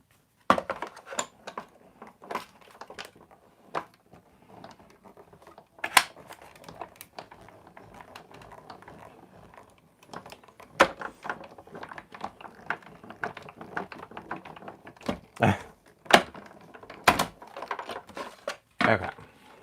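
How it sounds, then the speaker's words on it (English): A die cutting machine pressing paper through, heard as scattered sharp mechanical clicks and ratcheting ticks at an uneven pace, fairly quiet and close, with light handling noise between them. "So now we're going to die cut this."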